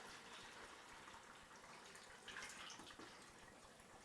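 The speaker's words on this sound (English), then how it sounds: "So go ahead and add your water." Water runs into a spray bottle through a funnel in a steady, faint gushing stream, with a slight splashy surge partway through; no voices.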